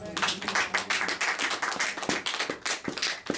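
A church congregation claps together in acclaim, a dense, lively round of many hands with steady sharp slaps throughout, no voices over it.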